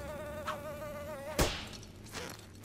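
A mutant fly character in the 2012 Teenage Mutant Ninja Turtles cartoon buzzes with a steady whining drone that wavers in pitch, broken by a sharp thud and then other scuffling sounds.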